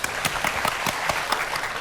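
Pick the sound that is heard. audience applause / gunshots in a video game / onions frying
audience applause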